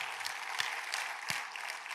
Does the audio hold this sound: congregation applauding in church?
yes